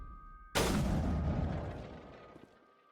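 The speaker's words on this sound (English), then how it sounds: "It is an energy weapon." An energy weapon fires in Mass Effect Legendary Edition, one sudden loud blast with a heavy low boom that rumbles and fades over about two seconds, alone over a faint electronic hum.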